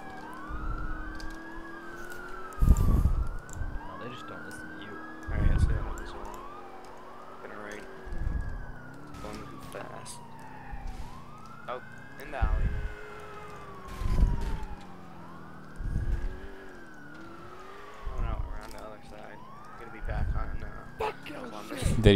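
Police car sirens in Grand Theft Auto IV with the LCPDFR mod during a multiplayer chase, wailing and yelping continuously in overlapping cycles over a rumbling engine, with excited players talking throughout.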